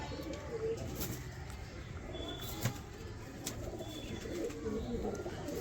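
Pigeons kept by a fancier coo softly in a loft, low murmuring calls under steady background noise, with a brief flutter of wings midway.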